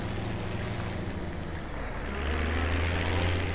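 A vintage-style MB Trac tractor in Farming Simulator 17 runs with a steady, loud diesel drone at close range, its low engine tone rising and thickening toward the end as it works during ploughing.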